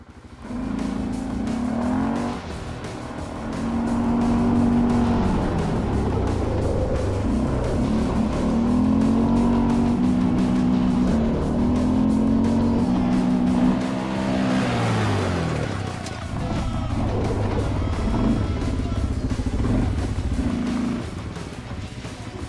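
Sport quad bike lapping the Motor-Land Dziekanów circuit, its engine droning loudly and continuously while the pitch rises and falls through gear changes and corners, with a brief dip partway through.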